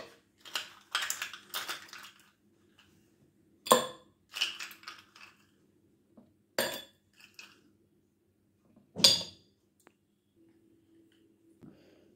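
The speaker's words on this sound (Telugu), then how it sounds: "ముందుగా ఐస్ ముక్కలు వేసుకున్నాను" Ice cubes drop and clink into a glass while apple juice is being prepared, a handful of sharp, scattered hard clicks and taps close by with quiet pauses between them.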